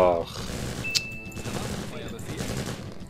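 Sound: sniper gunfire in a video game (Empire Earth)

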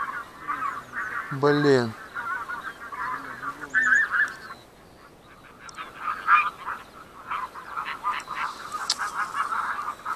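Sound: bean geese honking overhead during goose hunt

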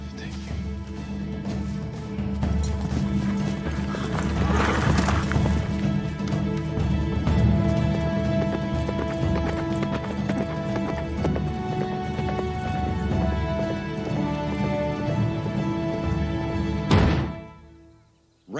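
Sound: horse galloping

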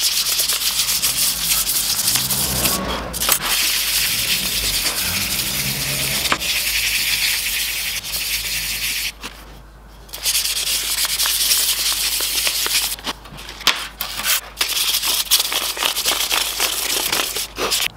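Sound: hand sanding a hammer head with 320 grit sandpaper

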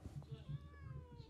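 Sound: cat meowing in a meme video

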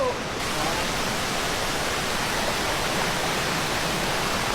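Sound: Chantathen waterfall, third tier

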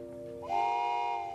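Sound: voice imitating a train

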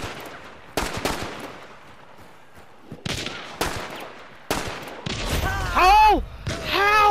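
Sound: pistol gunshots in a video game

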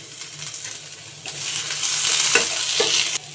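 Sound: stirring onion and green chili in pan

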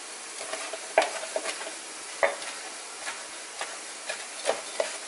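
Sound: stirring food in a pan on the barbecue

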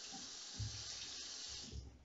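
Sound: water running from a bathroom tap

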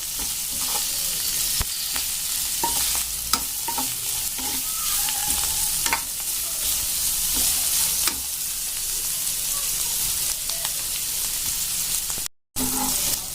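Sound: bitter gourd (karela) frying in a pan

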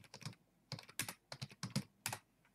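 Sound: typing on computer keyboard

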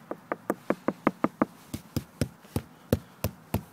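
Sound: knocking on a hollow Cobia 18C boat transom

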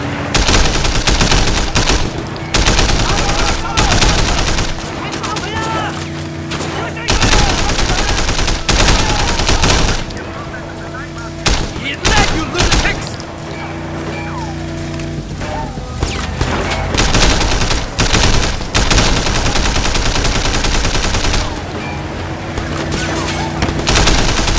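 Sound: gunfire in a shootout in the video game Sleeping Dogs

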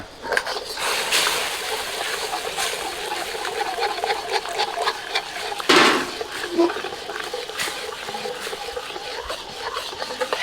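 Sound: pouring tapioca starch slurry into the broth

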